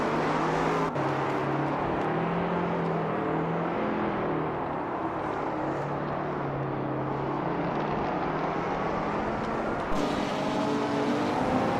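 Race cars in a racing video game, steady engine drone from several cars with pitch shifts as they overtake, moderately loud and continuous with no voices.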